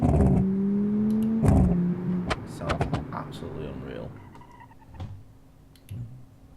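A 2.5-litre inline-five car engine in the BeamNG driving game, with pops and bangs tuned in, drones and shifts pitch while sharp crackling pops burst over it, a voice talking throughout.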